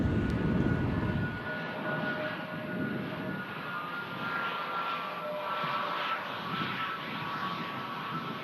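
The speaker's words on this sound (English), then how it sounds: "Pratt & Whitney engines on this Transat A321 Neo long-range model." An Air Transat Airbus A321neo long-range jet with Pratt & Whitney engines at Manchester Airport gives a steady, continuous roar that stays fairly loud throughout, with no talk.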